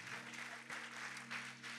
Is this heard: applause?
yes